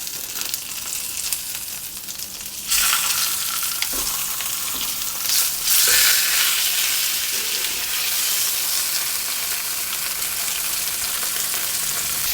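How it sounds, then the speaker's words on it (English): Veal shanks for osso buco searing in a hot pan: a loud dense sizzle that swells sharply as the meat is turned, with a few thuds and shifts, continuing steadily without speech. "I'm going to sear the sides as well as best as I can"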